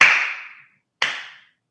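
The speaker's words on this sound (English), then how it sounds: "I'm going to slow clap for him" Two sharp, deliberate hand claps sound about a second apart in a podcast studio, each with a short ringing decay and silence between them.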